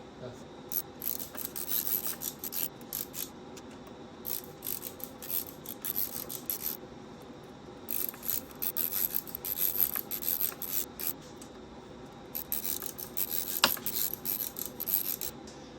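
Hex key turning the mounting bolts of a Touratech Zumo XT GPS mount on a BMW R1250GS Adventure motorcycle, a close, soft metallic rubbing and rasping in repeated short bursts with brief pauses between turns.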